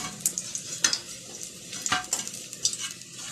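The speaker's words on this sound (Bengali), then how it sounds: "আর আমি এক এক করে মাছগুলোকে ছেড়ে দিচ্ছি, তেলটা ভালোই গরম হয়ে গেছে।" Fish frying in hot oil with a soft continuous sizzle, broken by several sharp spits and a couple of metal scrapes from stirring.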